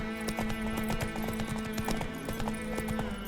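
Roach, Geralt's horse in The Witcher, clip-clops along with steady, close hoofbeats in a continuous trotting rhythm over soft ambient game music.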